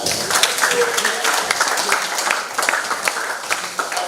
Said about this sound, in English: Let's get a clap for yourselves.